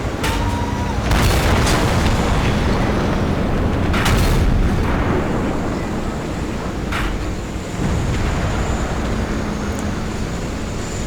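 Video game E100 tank cannon fire and impacts: a few heavy booms, each with a sharp crack, land seconds apart over a constant low rumble of engines and battle noise.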